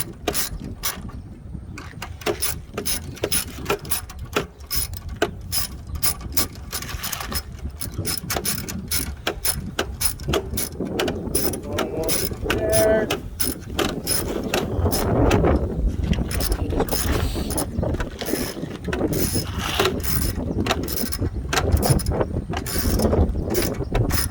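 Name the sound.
tightening bolts replacing starter on Lexus ES330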